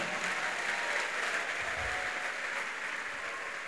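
A church congregation applauds during a sermon, a steady, dense wash of clapping that fills the space and holds evenly throughout, with no voices over it.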